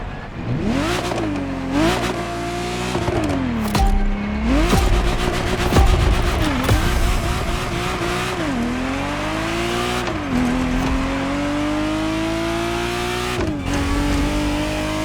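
A Ferrari Testarossa engine in The Crew Motorfest revs loudly and continuously, its pitch climbing and dropping through repeated gear shifts with the steady roar of a passing flat-twelve up close.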